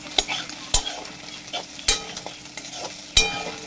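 Maggi noodles with scrambled egg being stirred in a frying pan, with crisp metallic clinks and scrapes at an uneven pace over a faint, soft sizzle.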